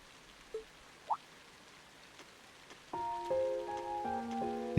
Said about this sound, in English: it is pouring still